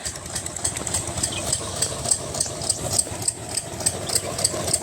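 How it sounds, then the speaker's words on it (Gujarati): Diesel engine driving an irrigation pump in a castor field, chugging steadily at medium distance with a regular knocking rhythm and a faint metallic rattle. "એક મશીન અહીંયા ચાલુ છે"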